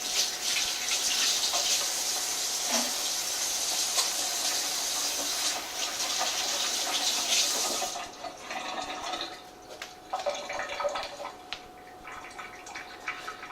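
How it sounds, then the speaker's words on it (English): A kitchen tap runs steadily for hand washing, a continuous hiss of water that cuts off partway through, leaving faint splashes and drips. "And then from there, wash my hands here."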